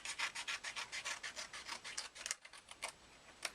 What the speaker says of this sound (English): just take a scissor, and I just want you to freehand cut a little arch here